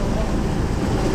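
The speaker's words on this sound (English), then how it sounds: "We just slowed the engine down." Whale-watching boat at sea off Sri Lanka with its engine throttled down, a low steady rumble mixed with wind buffeting and water wash, continuous and close, with no distinct voices.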